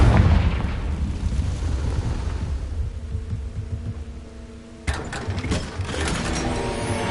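A Confringo fire-blast spell in Hogwarts Legacy erupts as a loud, rumbling explosion that fades into a sustained roar, followed by a sharper crackling burst near the end.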